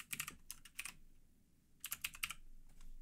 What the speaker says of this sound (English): we'll type in the IP address of the server and the port for this.